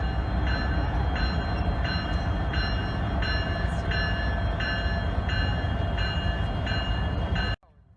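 A Norfolk Southern freight locomotive reverses onto another track in North Jersey with a steady heavy rumble and a faint pulsing tonal pattern, loud and close, until the sound cuts off abruptly near the end.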